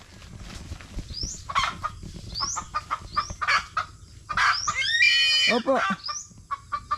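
Backyard chickens cluck and squawk in quick bursts as a hungry dog chases them, with a rooster-like call partway through and someone speaking briefly over the commotion.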